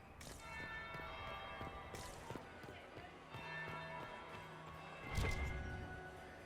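A single bell tolls in a Dragon Age Inquisition palace scene, its resonant strikes ringing out over soft background ambience and music, with footsteps and a louder knock near the end.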